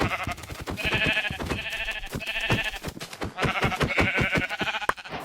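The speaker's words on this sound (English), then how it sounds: "Terry, we found sheep." Sheep bleat repeatedly in a video game, a series of loud, close, wavering calls running back to back with short gaps between them.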